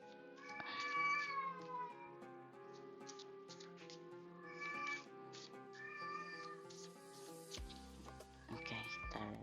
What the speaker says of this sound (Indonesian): Maaf kucing saya ini.